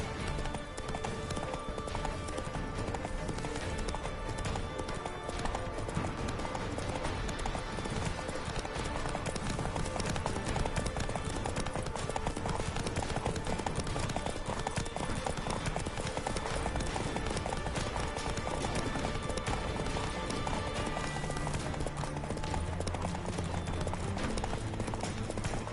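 A horse trots in The Witcher 3, its hoofbeats steady under a thick, constant bed of game music and ambience that stays loud and even throughout.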